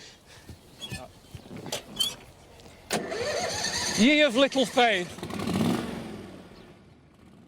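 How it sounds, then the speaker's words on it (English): An engine at a mill site in Dotton, Devon is cranked, sputtering through several rhythmic turnover attempts before catching and running briefly. Someone speaks before the cranking starts. "see how long it takes before it can get that engine started again"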